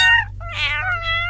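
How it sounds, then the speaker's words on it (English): High, thin mewing from kittens, several overlapping cries close by with a low steady hum underneath. "Yes, there are 3 mewing kittens."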